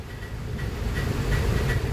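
Train running on the railway toward Ratnagiri, heard from inside a carriage as a steady low rumble with faint rhythmic clatter and a constant mechanical hum, no voices.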